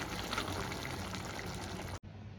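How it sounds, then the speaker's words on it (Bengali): Cooked vegetable curry of drumsticks and potatoes pours steadily from a pan into a bowl, a continuous close wet stream lasting about two seconds before stopping abruptly. "এবার আমি গ্যাসের ফ্লেমটা বন্ধ করে দেবো আর একটা পাত্রে ঢেলে নেব।"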